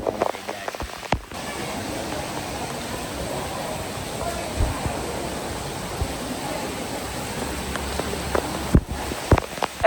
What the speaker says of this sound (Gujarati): એમ તો અત્યારે સુરતમાં છે ને ફૂલ વરસાદ છે ભાઈ